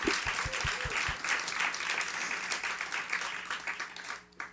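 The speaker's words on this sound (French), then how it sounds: "On peut les applaudir." A theatre gala audience applauds the honoured authors and stage designers: a few sharp, separate claps at the start swell into dense, steady applause across the hall, trailing off at the close.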